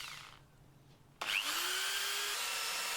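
A power drill bores holes into wood for a mallet wedge, starting abruptly after a quiet moment and then running loud and steady with a rising whine as the bit cuts.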